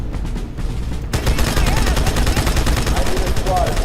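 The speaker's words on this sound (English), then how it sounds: "Two was the game that gave us manable turrets." Rapid, sustained manned turret fire in the video game Halo 2 erupts after a second of quieter noise, then hammers continuously and loudly with no voices.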